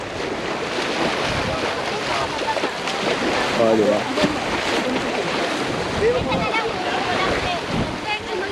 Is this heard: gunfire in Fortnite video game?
no